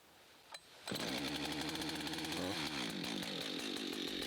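After a quick pull on the starter cord, a chainsaw catches on a cold start and roars to life, then keeps running loudly at a steady buzz.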